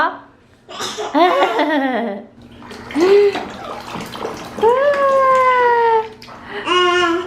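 A small child in a bath or shower in a Korean family home, with splashes and running water under bursts of voices, giggles and squeals close by.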